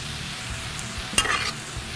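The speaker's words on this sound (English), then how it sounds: "All right, then we'll stir this all in." Bean sprouts and sambal stirred into a shrimp chow mein in a hot pan, a close continuous sizzle with one brief scraping stir of a utensil.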